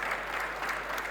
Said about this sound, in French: On peut vous applaudir pour cette conférence